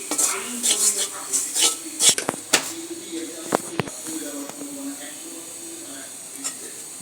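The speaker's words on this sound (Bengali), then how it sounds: "ময়দা দিয়ে এখন এই ময়দাটাকে বাদামি করব।" Flour browns in oil in a wok for a white sauce, stirred with a utensil that clacks and scrapes sharply in bursts, over a soft frying hiss that settles toward the end.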